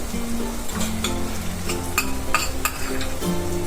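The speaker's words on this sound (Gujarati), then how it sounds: "તો આપણે ડુંગળીને થોડી સોતે કરી લઈશું પિંક કલરની થાય ત્યાં સુધી" Onions sauté in a pan in a home kitchen, giving a steady sizzle broken by sharp scraping strokes as they are stirred, over a faint tonal hum.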